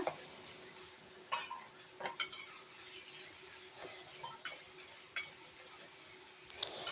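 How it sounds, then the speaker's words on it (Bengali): A spice mix being stir-fried in a pan for a goat head curry, with a faint low sizzle under repeated clinks and scrapes of a spatula against the metal pan. "এবার আমরা মশলাটা দিয়ে সুন্দর করে আমরা কষিয়ে নেব মশলাটা"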